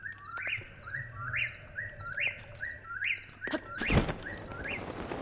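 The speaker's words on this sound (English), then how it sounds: "Wow, a lot of birds." Birds chirping in the video game Zelda: Breath of the Wild, a repeated series of rising tweets in steady rhythm against soft ambient background, with a sharp thud and rustle partway through.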